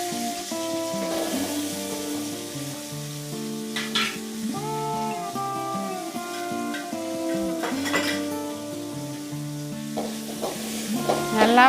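Small shallots sautéing in a pan, a continuous sizzle overlaid with frequent metal spoon scrapes and clinks against the pan, with steady sustained music tones playing throughout and no talking.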